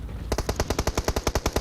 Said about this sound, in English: shooting some shots up into the top of the tippy top of those mountains